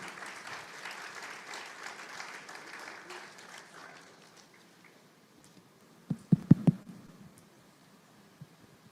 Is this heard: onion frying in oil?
no